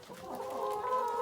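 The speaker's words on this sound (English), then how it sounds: "There's obviously far too many chickens for this small of a coop" Several hens cluck and murmur close by around feed in a small, crowded farm coop, a brief burst of soft, overlapping clucks with no talk.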